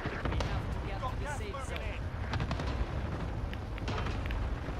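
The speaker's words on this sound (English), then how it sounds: "They're trying to shoot at us up here, right?" Enemy gunfire and booming blasts crackle through a video game firefight, with repeated shots over a rumbling background and voices talking over it.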